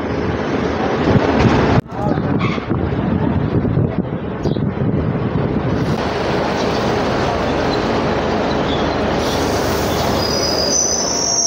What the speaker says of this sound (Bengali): আমাদের ট্রেন এই মুহূর্তে এসে পৌঁছলো